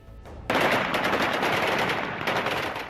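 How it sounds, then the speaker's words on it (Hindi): AK-47 rifles fire into the air during a Taliban celebration in Afghanistan. After a brief quiet, a dense, continuous burst of automatic gunfire erupts and rattles on loudly. "गोलियों की तड़तड़ाहट, आसमान की तरफ AK-47 के मुंह"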